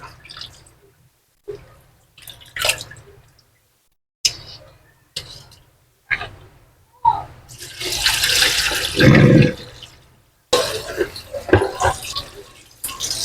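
Washed vegetables are tipped into a container to drain, giving intermittent splashes and drips of water, with a louder pouring rush near the end and bursts of close handling between the pauses.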